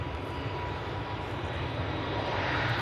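An EasyJet jet departing Manchester Airport for Lanzarote gives a brief, moderately loud, steady engine roar heard on its own.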